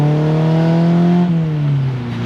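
A Porsche fitted with a naturally aspirated Honda K24 VTEC engine pulls hard under acceleration, its loud, steady engine note rising and then dipping briefly at a shift, close and continuous with no talking.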